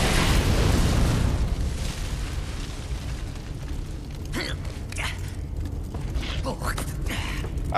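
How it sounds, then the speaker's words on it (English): A bomb goes off in the video game Dead Rising 2: a loud, close burst at the start that fades into a rumbling tail, followed by scattered mechanical clicks and creaks. "It's a bomb."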